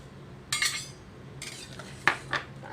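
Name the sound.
stirring squid and shrimp in a pot for tom yam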